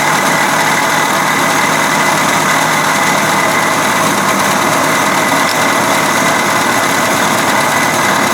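A carburetor engine idles loud and steady close by, a constant buzzing drone with a faint vibration. Its speed edges up while the mixture is adjusted. No one speaks.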